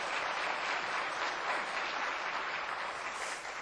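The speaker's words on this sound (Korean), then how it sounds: "박수 한번 드리도록 하겠습니다." Congregation in a church clapping to welcome back returning members, a soft, steady wash of many hands heard from a distance, even throughout.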